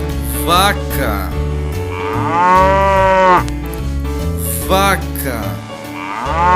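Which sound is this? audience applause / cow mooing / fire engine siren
cow mooing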